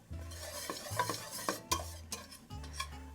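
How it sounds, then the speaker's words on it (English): A flour roux sizzles gently in a pan while it is stirred, with repeated soft scraping strokes and light utensil clicks set against a low frying hiss. The sound is quiet, close and has no talk. "we're going to cook this out for 10 minutes just to get rid of that flour taste"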